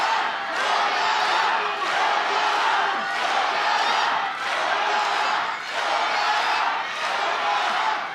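Pro wrestling crowd in Korakuen Hall roars and chants loudly in a pulsing rhythmic surge during a GHC Heavyweight Championship match, sustained and dense throughout.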